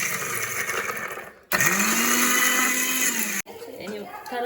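A mixer grinder blends garlic and ginger into a paste. The loud motor whirrs in three bursts, with brief cutoffs between runs, and the pitch shifts as the load changes.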